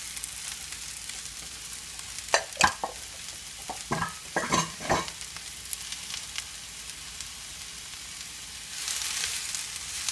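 Sliced red pepper and mushrooms sizzle softly in a pan for fajitas, with a few sharp scraping stirs and clatters in the middle over a low steady frying hiss.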